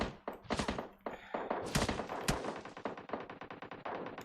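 Rapid automatic gunfire from a shooter video game, dense bursts and sharp single shots crackling back to back at loud level, with no voices over the firing.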